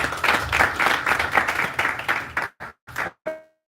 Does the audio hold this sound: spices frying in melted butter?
no